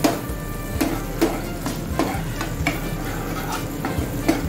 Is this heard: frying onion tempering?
yes